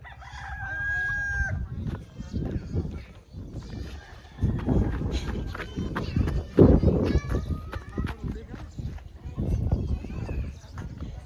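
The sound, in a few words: rooster and chickens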